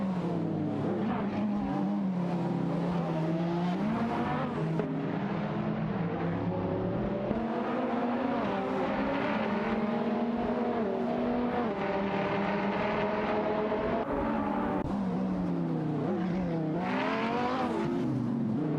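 Race cars in an AI racing video game drone steadily, engines revving up and down as they pass and accelerate, a continuous loud mix of several cars with no talk.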